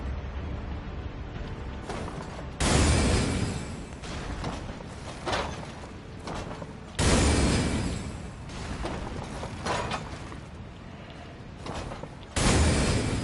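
Cannon fire and explosions in a video game come as three loud booming blasts about five seconds apart, each trailing into a rumbling, rattling tail between shots.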